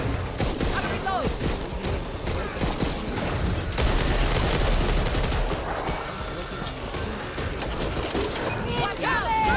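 Heavy, continuous shotgun blasts and chaotic combat noise in the co-op zombie shooter Back 4 Blood on nightmare difficulty, loud and dense with no pauses, with voices talking over the fighting.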